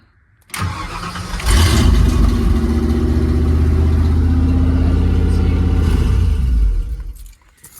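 A truck engine cranks and fires up with the clutch pedal not pressed, catching after about a second and settling into a loud, steady near idle for several seconds before shutting off.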